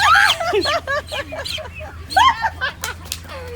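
Turkeys on a large farm flock give a busy chorus of gobbling and chirping calls, fairly close, over a low steady hum.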